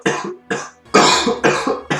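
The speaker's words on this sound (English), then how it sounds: "If you hear me coughing" About five harsh, close coughs in quick succession, each a short rough burst with brief pauses between.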